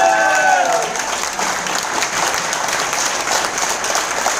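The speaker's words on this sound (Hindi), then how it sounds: "जोरदार तालियां होनी चाहिए" A crowd at an Ahmedabad business training and leadership event claps loudly and steadily for an invited upline leader, dense applause filling the room throughout, with a brief voice at the start.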